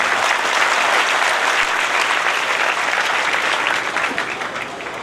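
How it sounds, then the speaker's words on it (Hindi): Loud, sustained applause from an audience at a religious gathering at a cow shelter, dense clapping filling the whole stretch and easing slightly toward the end. "एक बार पढ़े जोरदार तालियां"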